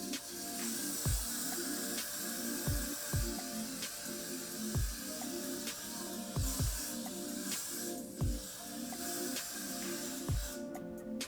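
Got2b Glue hairspray hisses in a steady mist onto a sleek bun, with faint clicks and small thumps scattered throughout and no talking.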